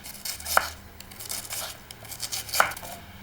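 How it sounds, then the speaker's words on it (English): Cherry tomatoes and a purple onion are sliced on a board for a Tuscan meal, with close, soft knife cuts and a couple of sharper taps against the board. "And now you can start cutting your vegetables. A couple of cherry tomatoes. Purple onion."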